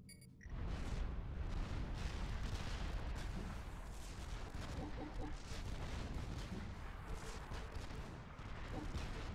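Heavy artillery pounds a base in the strategy game Supreme Commander 2, a dense barrage of booming impacts and gunfire rumbling continuously and loudly after a brief quiet start.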